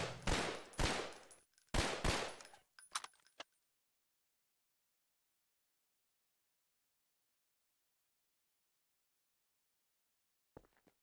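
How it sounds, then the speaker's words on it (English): In a Half-Life map, a gun fires several bullets at once in two loud, close bursts with a rattling tail. A few quieter clicks follow, then long silence and a faint click at the end. "Firing multiple bullets at once."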